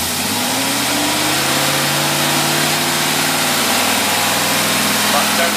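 A car engine fitted with a Holley 4412 carburetor drones loudly and steadily on a road test, a constant engine and road roar filling the clip with a voice faintly underneath.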